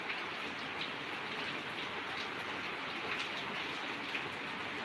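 Steady rain falling outdoors, an even, continuous hiss of drops that holds at the same level throughout, with no voices.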